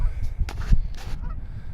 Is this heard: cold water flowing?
no